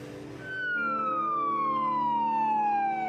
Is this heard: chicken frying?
no